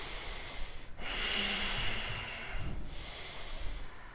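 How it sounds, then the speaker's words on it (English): Loud, deep breathing during a power yoga class: a long hissing exhale through the nose or mouth, then another drawn breath, close and full over a quiet studio. "Loud breathing."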